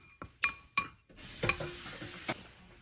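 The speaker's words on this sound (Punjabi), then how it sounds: "ਇਹ ਜਿਹੜੇ ਆਪਾਂ ਨੇ ਮਸਾਲੇ ਲਏ ਨੇ ਇਹਨਾਂ ਨੂੰ ਆਪਾਂ ਨੇ ਇਸ ਤਰੀਕੇ ਨਾਲ ਮਿਕਸ ਕਰ ਦੇਣਾ ਆ ਸਾਰੇ ਮਸਾਲਿਆਂ ਨੂੰ" A spoon clinks sharply against a bowl a few times, then scrapes and swirls while mixed ground spices are stirred together for stuffed tinda, close up with no talking.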